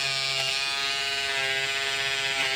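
A Peggy electric stitch eraser buzzing steadily and loudly up close, its continuous high-pitched motor whine holding even throughout with slight shifts in tone as it is angled against embroidery stitches on fabric.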